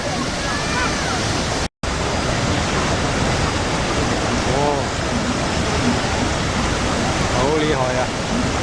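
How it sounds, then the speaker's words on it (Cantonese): Hukou Waterfall on the Yellow River roars as a dense, loud, unbroken wash of falling water, with a brief dropout early on and faint voices now and then underneath. "呢個正式就係湖口大瀑布啦。"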